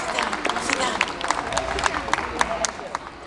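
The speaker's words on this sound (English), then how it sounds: "give her a round of applause" Audience applause for a volunteer at a Fire & Ice science show at the South Florida Fair: scattered claps over steady crowd hubbub, fairly close and continuous.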